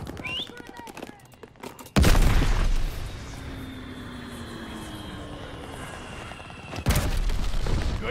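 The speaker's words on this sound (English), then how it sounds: "Glide bomb ready for target." Glide bomb strikes in Call of Duty Vanguard, heard as two sudden loud booming blasts several seconds apart, each followed by a rumbling roar under ongoing battle noise and aircraft drone.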